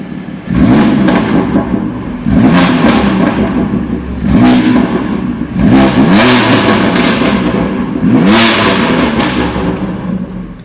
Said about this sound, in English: if you go and put it into Sport Plus, it opens up the valves and makes it a lot louder